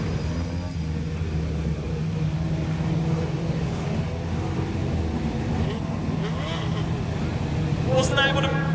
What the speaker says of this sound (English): coming through turns 3 and 4 for Formula 500, your feature race winner